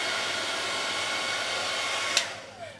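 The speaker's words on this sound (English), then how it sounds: "Let's put a bit of hairdryer on it," Hair dryer blowing steadily on a homemade maglev vertical-axis wind turbine built from a glued child's toy and magnet, a loud continuous whoosh that stops abruptly near the end.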